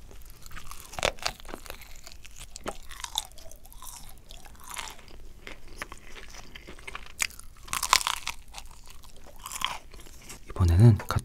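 Korean fried chicken dipped in salt is eaten close to the microphone in ASMR style, with loud crunchy bites and wet chewing and occasional soft speech between mouthfuls.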